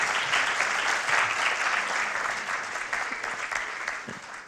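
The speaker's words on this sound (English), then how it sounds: "Let's give warm applause for the task force and their hard work with this." A conference audience applauds a task force, a dense, steady wash of many hands clapping together that holds for several seconds and slowly tapers, with no voices on top.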